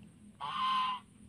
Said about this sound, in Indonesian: angsa merupakan hewan yang sangat pintar kawan-kawan